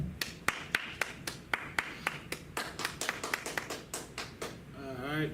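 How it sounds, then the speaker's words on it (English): Audience at a Houston class clapping in a steady, sharp rhythm of distinct claps, fairly close and loud, ending with a brief voice. "Clap it up."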